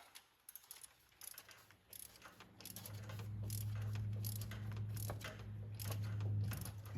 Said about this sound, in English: Now I can switch to my little ratchet.